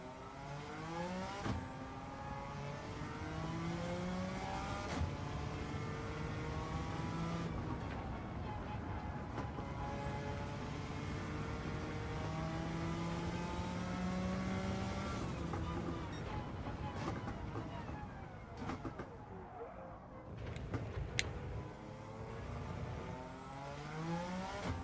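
A 1,186-horsepower race car engine in Gran Turismo 7 World Touring Car 600 on Tokyo Expressway, revving steadily and loud with rising and falling pitch through gear changes, continuous and close.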